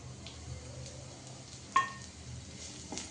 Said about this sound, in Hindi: अब यहाँ पे प्याज को भी हम भून लेते जब तक कि प्याज अच्छे तरीके से भून ना जाए